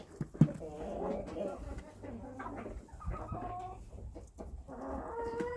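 Chickens cluck and chatter close by in a steady jumble while being fed in the evening, with a few sharper squawks and other farmyard noise mixed in.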